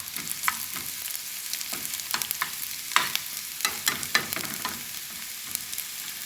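A small piece of onion fries in hot ghee, sizzling steadily up close while a utensil stirs and scrapes the pan in irregular clinks and taps.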